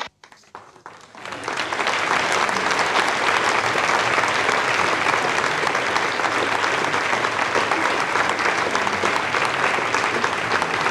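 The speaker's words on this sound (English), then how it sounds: "you hear the applause now from the people here in Jupiter" A launch control team bursts into sustained applause after satellite separation on an Ariane 5 mission, quiet at first and then swelling within two seconds into loud, dense clapping that holds steady to the end.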